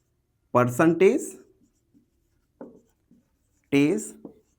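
Marker or chalk scratches faintly on a board during a math lesson, heard in the quiet gaps between a teacher's bursts of speech.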